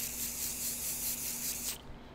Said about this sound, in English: You need a comb or brush it, and then spray.